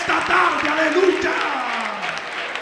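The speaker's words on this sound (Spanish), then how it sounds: "Dale fuerte ese aplauso al Señor" A church congregation applauds for the Lord, a clatter of clapping hands mixed with raised voices and a sustained sung or shouted tone, fairly loud and close.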